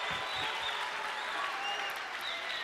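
A studio audience on a Turkish singing competition show claps in a dense, steady wash of applause that holds at an even level throughout, with no individual voices standing out.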